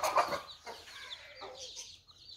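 A rooster being caught and held by hand at a haveli gives a few close, loud clucks, strongest at the start and then tapering into softer calls.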